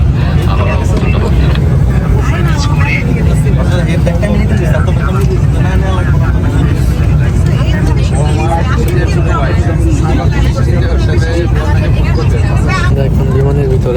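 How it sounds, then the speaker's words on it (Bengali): Steady loud broadband roar inside the cabin of a Biman Bangladesh Airlines airliner flying from Dhaka to Cox's Bazar, continuous throughout with faint passenger chatter underneath. "এখন বিমানের ভিতরে"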